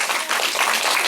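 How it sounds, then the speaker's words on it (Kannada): A church congregation claps together in one brief, loud burst of many hands, filling the room for about a second. "ನಿದ್ದೆ ಮಾಡೋರೆಲ್ಲರೂ ಗಟ್ಟಿಗೆ ಒಂದ್ಸರಿ ಚಪ್ಪಾಳೆ ಬಿಡ್ರಿ"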